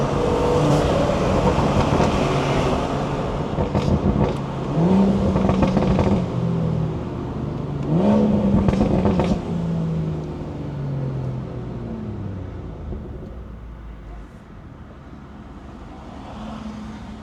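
BMW with a B58 engine accelerating hard in several pulls, the engine note rising and falling loudly with intake noise up close from inside the car, easing off toward the end.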